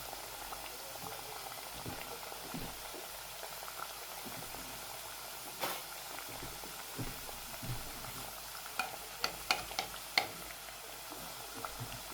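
Pieces of churma muthiya dough fry slowly in a little oil over low heat, with a steady soft bubbling sizzle and a few sharper pops near the end.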